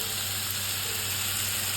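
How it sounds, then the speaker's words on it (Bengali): Pabda fish frying in a pan with turmeric and salt, a steady, even sizzle of hot oil close up, continuous and unbroken throughout. "একটু হালকা করে ভাজে নেব"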